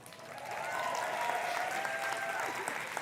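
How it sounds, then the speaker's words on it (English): An audience applauds for CEO and founder Josh Zwagel at the MDC Renewal 2022 event, with steady clapping throughout and faint crowd murmur beneath it. "our CEO and founder, give him a round of applause."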